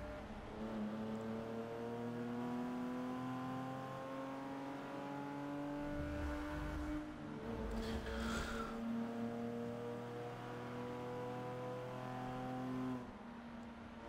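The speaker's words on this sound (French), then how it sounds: "Non, mais le bruit moteur fait tellement pitié," A Porsche engine in the racing game Forza 6 drones steadily with a strong harmonic tone, shifting pitch as it revs and dipping briefly midway before settling back into a sustained hum.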